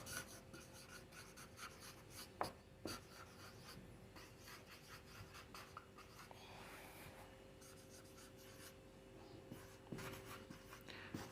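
A pen scratches across paper while an application letter is written, close and soft, with short strokes and taps coming in an irregular rhythm over a quiet room hum.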